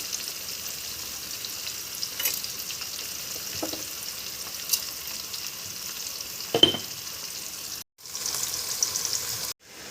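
Steady sizzling of field beans sautéing in a pan with onion and tomato, with occasional scrapes and clinks of stirring, close and continuous.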